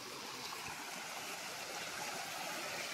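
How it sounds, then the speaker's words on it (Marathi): River water in the Konkan countryside flows steadily past a small fish weir, a soft, constant rushing wash with no voices over it. "पाणी बघा कसं वाहतंय."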